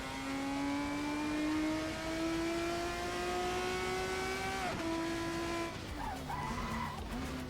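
Formula E race car in a video game at Silverstone, its electric drive whine climbing steadily under acceleration, then cutting off abruptly with a brief tire squeal and shifting tone near the end, loud and close, no talk.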